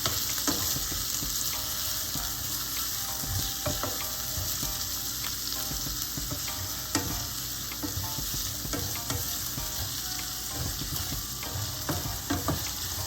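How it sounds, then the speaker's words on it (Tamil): Onion, green chilli and curry leaves sauté in hot oil in a pan, with a steady close sizzle and frequent scraping, stirring taps throughout. "வெங்காயம், ஒரு பச்சை மிளகாய், கருவேப்பிலை இதை போட்டு ஒரு 2 நிமிஷம் நல்லா அந்த வெங்காயம் வந்து நல்லா கோல்டன் ப்ரௌன் ஆகும்."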